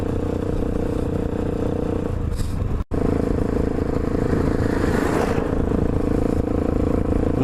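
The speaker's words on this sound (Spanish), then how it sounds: "Un tractor." A heavy tractor engine rumbles loudly and continuously nearby as it passes close on a dirt road, with a steady low drone and some rattling.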